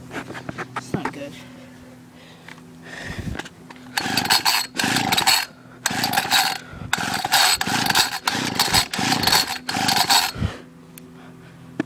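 A Homelite small two-stroke engine sputters and half-catches in a run of rough, uneven bursts after some hesitant attempts, close and fairly loud, with someone talking briefly between tries.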